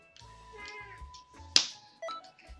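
A cat lets out drawn-out, tonal meows, broken by one sharp snap-like click midway.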